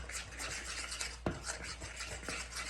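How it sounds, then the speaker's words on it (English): Cornmeal batter with mayonnaise being stirred in a bowl for cornbread, a soft rhythmic scraping and swishing with one sharper knock against the bowl, quiet and close. "I'm just gonna stir it up in my cornmeal"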